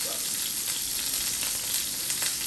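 Sirloin steak sizzles steadily in a scratch-resistant frying pan, a close, continuous bright hiss with scattered pops and crackles that runs unbroken for the whole stretch, no voices over it.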